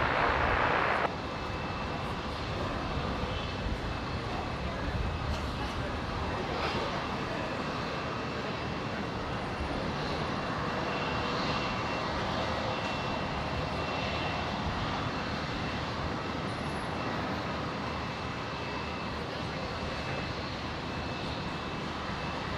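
Jetstar Airbus A320 landing at Brisbane Airport, a sustained jet engine rumble and whine at steady loudness, heard alone after a brief louder onset.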